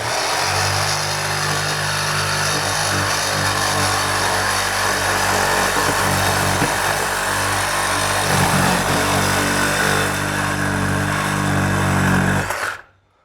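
A Sawzall reciprocating saw cuts through copper pipe, a loud, close, steady buzzing motor whine lasting about twelve seconds before stopping abruptly.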